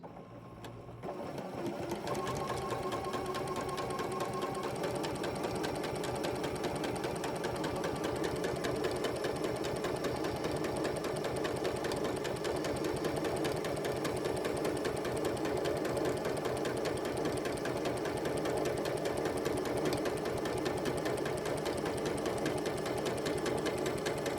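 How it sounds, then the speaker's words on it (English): A sewing machine stitching a quilt block, starting after a brief quiet moment and then running in one long, steady, even whir of rapid needle strokes, close and alone. "hopefully we'll sew a straight line"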